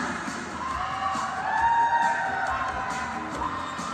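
Regina supporters in the crowd at a roller derby bout against Saskatoon cheer, whoop and yell together in a sustained swell that peaks midway.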